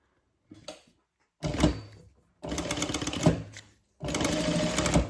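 A sewing machine stitches a quarter-inch seam on bag lining, running in four bursts that grow longer, with a steady rapid mechanical whir and brief pauses between them, close and clear.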